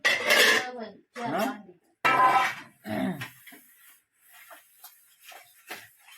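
Dishes and pots clatter and clink in bursts while someone scrubs and washes, with quieter scraping and clinking in the pauses.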